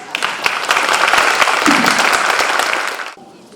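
Audience applause at a Veterans Day ceremony: a steady wash of many hands clapping, fairly close and loud, holding for about three seconds before cutting off abruptly.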